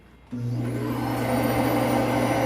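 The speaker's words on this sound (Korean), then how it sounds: "먼저 이 부분, 네, 튀어나온 부분을 네, 동그랗게 예, 갈아줍니다." A grinding tool starts abruptly and whirs at a steady, loud, high-pitched drone while wearing down a protruding part of a saxophone neck during a cork replacement repair, with no talking.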